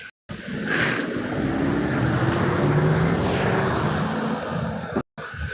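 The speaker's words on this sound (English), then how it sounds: "What was that, 4 or 5 cars that drove by?" Several cars passing a street crosswalk, merging into one continuous loud roar of tyres and engines that swells and holds, close by.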